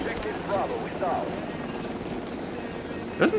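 A helicopter in a fast first-person shooter game thrums with a steady rotor drone, and someone talks over it while brief in-game sounds cut through.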